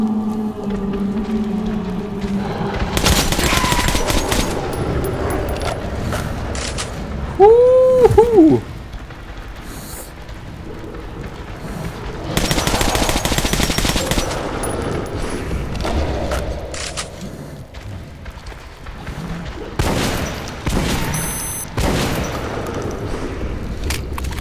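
Gunfire in Metro Last Light, a game: a handful of loud, sharp shots and booming blasts burst out in separate bursts amid clattering action, with someone talking over the gameplay in places.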